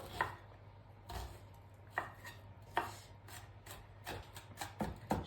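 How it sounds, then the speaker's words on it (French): A knife finely slicing a raw onion on a cutting board, with sharp, irregular chopping taps close by and soft rubbing in between, no voices. "Je vais ici éplucher mon oignon. Je vais le couper finement et je vous montre le résultat."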